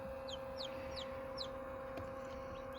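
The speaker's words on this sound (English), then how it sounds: "When I take the top off of this incubator, you can see my chickies inside." Chicks inside a home incubator give several high, faint cheeping peeps, spaced irregularly over a steady low electrical hum.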